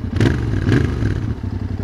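Royal Enfield Interceptor 650 motorcycle engine revving up close, with two strong surges of throttle and a steady low rumble between them, plus some mechanical clatter.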